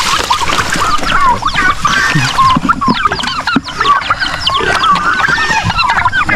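A flock of turkeys on a farm gobbles and chatters nearby, a dense overlapping stream of calls continuing throughout with a few clattering knocks.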